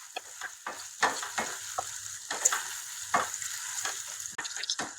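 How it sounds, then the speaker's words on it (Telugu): Cashew nuts sizzle in hot oil while a spoon stirs them, giving a steady frying hiss broken by repeated scraping strokes for a drumstick cashew curry. "జీడిపప్పు ఫ్రై అవ్వాలి, బాగా మిక్స్ చేసుకుని జీడిపప్పు బాగా ఫ్రై అయ్యేలాగా"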